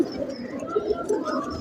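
Pigeons coo in a few short, soft, low notes at moderate distance over a faint background.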